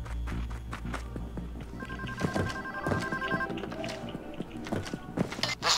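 A telephone rings in Payday 2 during a Go Bank stealth heist, repeated electronic ring bursts over clattering footsteps and background noise.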